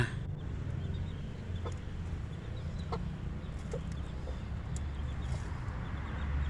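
A crossbred game hen and her chick are kept under a woven basket cage. Faint, scattered clucks and peeps sit over a constant outdoor background hum.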